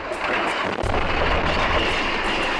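Deep, rumbling booms from equipment collapsing underwater roll continuously, like distant explosions muffled underwater, with a dense low-frequency roar throughout and no clear pauses.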